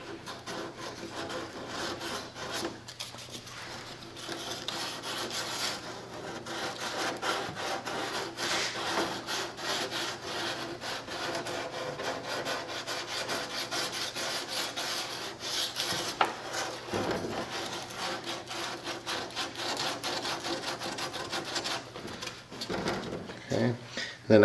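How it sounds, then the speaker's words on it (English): Sandpaper of 150 grit sanding the wood of a model F-16 build, a continuous close scratchy rasping with steady back-and-forth strokes lasting over twenty seconds, with a voice speaking intermittently beneath. "I think this is 150 grit sandpaper."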